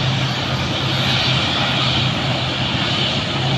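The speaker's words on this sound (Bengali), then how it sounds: "আরেকটি বিমান এইমাত্র ল্যান্ড করলো।" An airplane arriving from abroad lands, its engines producing a loud, steady roar with a broad whooshing hiss and a low hum, sustained close by throughout.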